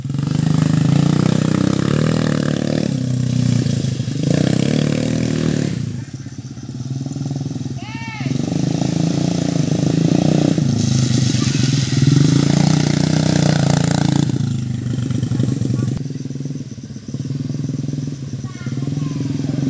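A motorcycle engine with a sticky throttle revs up and down again and again, loud and close, rising and falling in repeated bursts while a person talks over it.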